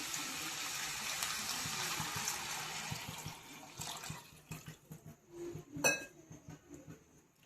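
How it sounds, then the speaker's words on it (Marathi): A stream of water pours steadily for a few seconds into a metal pan of whole masoor lentil curry, then gives way to scattered clinks and knocks of the pan, with no talking. "आता यात पाणी टाकायचं आपल्याला."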